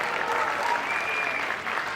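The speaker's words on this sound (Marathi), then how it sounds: "हे सगळं खासरेच्या टीमचं त्यांच्यासाठी टाळ्या वाजवा" A crowd at a Marathi film's success party applauds continuously, a dense even wash of clapping that holds for the whole stretch.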